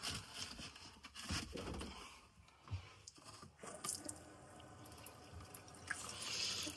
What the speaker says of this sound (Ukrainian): Так, ну що, включаємо кран.